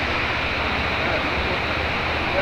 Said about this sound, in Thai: น้ำตกน้ำตก